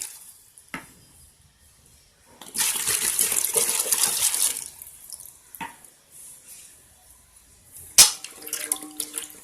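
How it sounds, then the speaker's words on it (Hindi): Plain water pours steadily onto Indian gooseberries for about two seconds, with a few sharp clicks and clinks of a container before and after. "मैं ये सादा पानी डाल दूंगी इन आंवलों में"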